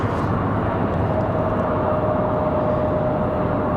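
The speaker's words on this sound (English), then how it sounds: "On final, we've got American Airlines 2693 from Dallas Fort Worth." An American Airlines Airbus A321 arriving on final approach at Raleigh-Durham from Dallas, its jet engines giving a loud, steady roar with a faint whine held throughout.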